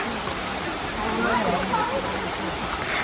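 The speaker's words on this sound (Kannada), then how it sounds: "ಸೌಂಡ್ ಕೇಳಿಸ್ತಾ ಇದೆ ಫಾಲ್ಸ್ದು ನೀರು ಹರಿತಾ ಇದೆ ಸೌಂಡು" Waterfall at Madikeri: a steady, dense rush of flowing water fills the scene at a constant level, with a voice talking faintly underneath.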